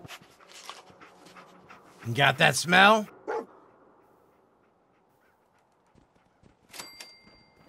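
A dog companion in the Fallout 4 video game gives a brief harmonic bark or whine, with panting in the background, while someone speaks over the game audio.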